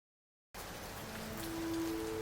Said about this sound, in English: And then the rain would recommence its beating.